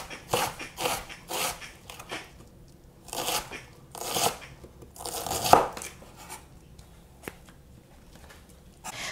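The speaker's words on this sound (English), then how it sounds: "Going to cut the wedge, and then using a knife, we're going to cut it as finely as we can." A knife shaves finely through a wedge of purple cabbage, giving a series of short, crisp rasping cuts in uneven bursts, close and fairly quiet, with pauses between strokes.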